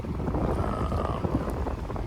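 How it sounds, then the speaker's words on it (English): Steady southeast wind rushing across a sailboat on a lake, a continuous broad whoosh buffeting the microphone, loud and unbroken with no voices. "It's a southeast wind"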